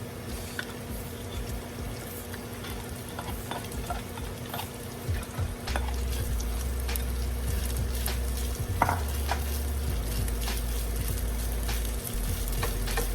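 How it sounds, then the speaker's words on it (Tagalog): Cooked rice tossed and stir-fried in a hot pan for Filipino garlic fried rice (sinangag), a steady close sizzle and crackle of frying with occasional scraping stir strokes, growing louder after the rice goes in, no talking. "Okay, time to add our rice."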